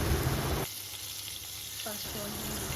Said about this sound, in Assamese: এতিয়া এই তেলখিনিতে পাঁচফোৰণ কেইটামান আৰু শুকান জলকীয়া দি ভালদৰে ফুটিবলৈ দিম।